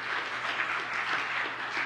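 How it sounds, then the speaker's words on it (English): An audience applauds during a quiz game at a church worship service. The steady, dense clapping is moderately loud and lasts just under two seconds, with no talking over it. "Give him a round of applause."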